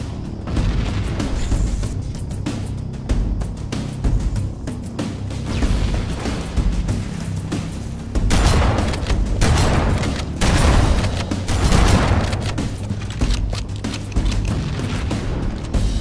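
Dense rumbling booms and bursts of blasts roll continuously, swelling louder in the second half, like heavy explosions in Halo: Combat Evolved Anniversary, with no one talking.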